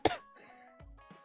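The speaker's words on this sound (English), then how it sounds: "Where did this cough come from?" A game character in Scarlet Nexus gives a single short cough at the start, followed by a quieter second cough, over a soft sustained background music tone.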